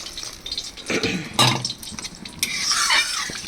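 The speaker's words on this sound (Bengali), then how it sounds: "এবার আমি দিয়ে দিচ্ছি এর মধ্যে জল।" Water is poured into a pan of tangra fish curry with ridge gourd and potato, producing splashing and bubbling bursts over a soft sizzle, close up and without talking.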